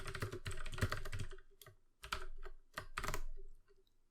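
Computer keyboard clatters close up as code is typed in quick bursts, dense runs of keystrokes separated by short pauses.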